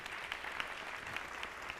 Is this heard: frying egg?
no